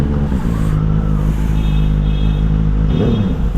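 Close and loud, a warmed-up Benelli superbike with a modified exhaust rumbles deeply, its low engine note swelling briefly as it revs near the end.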